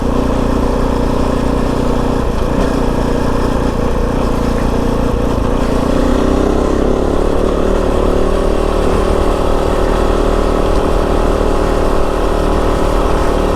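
A Kove 450 Rally dual sport motorcycle rides along at speed, its single-cylinder engine a loud, steady drone mixed with wind rush, rising slightly in intensity midway, close and continuous.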